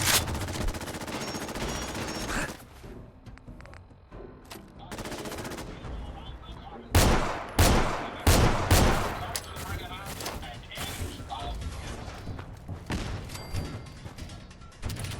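Fallout 4 combat, with a rapid run of loud gunshots and a frag grenade blast in the middle and scattered shots before and after over a low game background.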